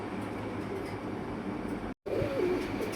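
Fancy pigeons, including silver birds, coo softly at a pigeon farm amid a steady, noisy background hum, with a brief dropout of silence partway through.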